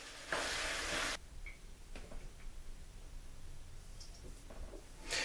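Sweet Italian sausage and ground beef brown in a pan, with bursts of loud sizzling, scraping stir strokes and a steady low crackle in between.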